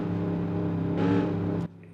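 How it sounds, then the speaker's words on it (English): A Hopper car engine in BeamNG.drive drones steadily near its rev limit, swelling briefly louder before cutting off abruptly, with no talk over it. "you may or may not have heard the engine of the hopper, how it's kind of redlining a little"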